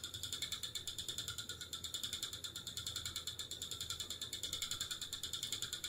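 An unoiled spinning wheel turns while spinning yarn. It gives a faint, steady, rhythmic squeak and click, repeating several times per second, quiet and close, with no talking.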